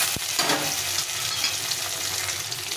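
Crushed ginger sizzling in hot oil in a pan, a steady, dense, close frying hiss that runs unbroken throughout, with a brief knock right at the start.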